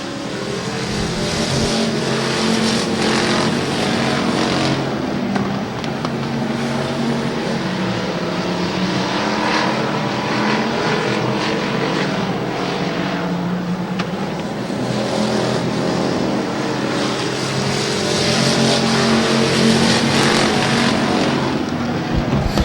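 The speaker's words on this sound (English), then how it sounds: "Getting a 3-car battle now for the second spot as Michael Spear is all but checked out on the field." Stock cars racing at Twin State Speedway in Claremont, New Hampshire: a loud, continuous roar of several engines droning and revving around the track, steady and sustained throughout with no break.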